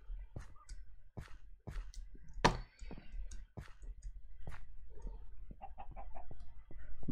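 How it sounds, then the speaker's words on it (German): A chicken clucks in a Minecraft world at night, short sharp clucks scattered irregularly amid soft footstep-like clicks, fairly close and clear, no talking. "Und ich höre ein Huhn."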